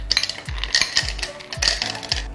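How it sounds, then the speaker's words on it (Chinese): Ice cubes drop into a bottle of green grapes, lime and syrup with several sharp, bright clinks in quick succession over a steady musical beat. "放入我们的冰块，"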